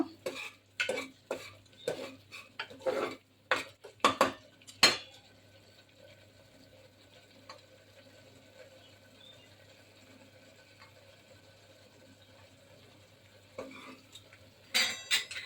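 Sabut moong kadhi mixture is stirred and roasted in a pan: a run of sharp scraping and clinking strokes, then a quiet stretch of low sizzling, and a few more strokes at the end; no talking.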